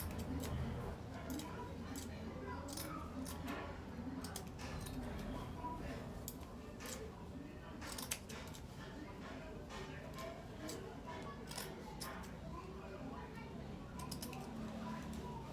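Scissors notching satin fabric for a ruffle hair bonnet, a long run of quick light snips and clicks at an uneven pace, close and fairly faint over a low room hum.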